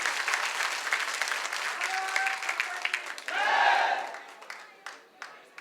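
A crowd at a political rally in Rajasthan bursts into loud clapping and cheering that swells and then thins out into scattered claps at the end.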